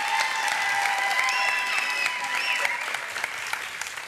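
Studio audience applauding on a Turkish family quiz show, a steady wash of clapping that holds for about four seconds and gently fades toward the end, with faint tonal studio sounds mixed in.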